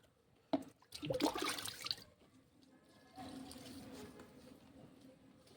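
Liquid poured by hand onto chili and tomato plants, a short burst of splashing and trickling followed by a fainter, softer pour, quiet and close.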